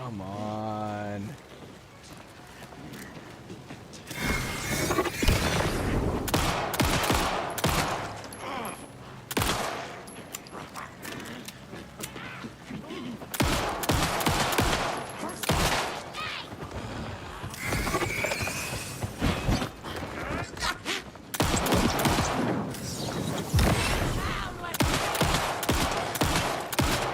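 Pistol gunfire in the video game Alan Wake 2, repeated sharp shots in scattered clusters over a rain-like background hiss, loud and close, with occasional talking in between.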